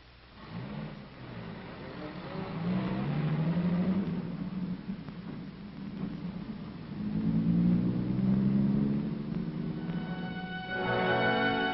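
A truck delivering a filtered animal cage to a laboratory, its engine audible at moderate distance, rising and falling as it accelerates in two pushes without any speech.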